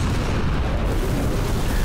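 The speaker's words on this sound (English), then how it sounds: "Fuel rod gun!" A fuel rod gun firing in Halo 3, a heavy booming blast with a rumbling low-end tail that lingers across the short stretch at moderate volume.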